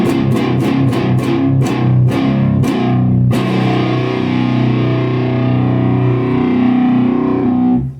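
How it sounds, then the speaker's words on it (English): Godin SDXT electric guitar with the tone knob rolled fully off, giving a dark, muffled distorted tone: a run of quick, evenly spaced chord stabs, then one long chord left ringing and fading out, loud and close with no talk. "Now we'll roll the tone all the way off."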